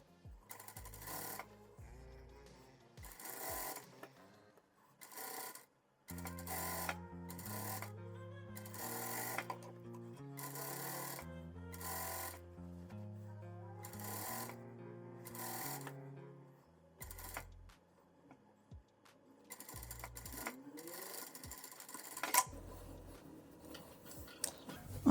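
A sewing machine topstitches a loose dress with a gathered hem, running in short, quiet bursts of rapid stitching separated by brief pauses.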